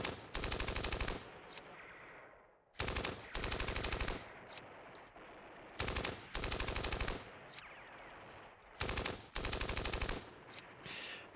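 Repeated bursts of automatic gunfire from the Steel Panthers wargame, set in an Iran-Iraq War 1980 battle, come in four loud, long volleys separated by short quieter gaps with no talking.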